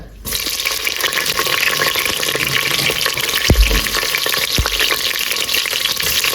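Green chillies fry in hot oil in a pot for biryani, a dense, continuous sizzle with crackling, close and loud, broken by a couple of soft knocks of utensils.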